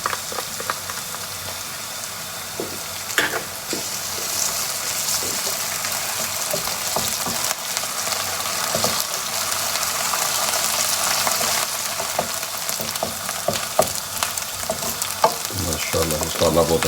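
Masala with chopped green chilies fries loudly in a pot for a sour potato and aubergine curry, a dense continuous sizzle with frequent scraping stirs and clinks throughout.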